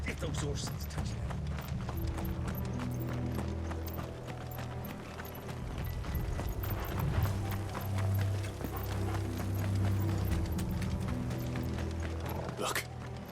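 Horse hooves pound rhythmically in a Final Fantasy XVI scene, a dense galloping clatter with mechanical rattling, continuing under talk and growing louder toward the middle.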